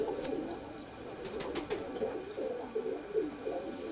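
Soft, repeated pigeon cooing in a low, rolling rhythm, fairly close, with a few faint clicks and rustles in the background.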